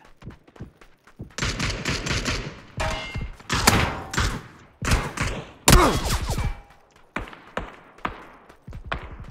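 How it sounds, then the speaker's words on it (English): Video game gunfire bursts in rapid volleys and single shots, loud and close, arriving in irregular clusters separated by brief pauses. "I'm getting shot at."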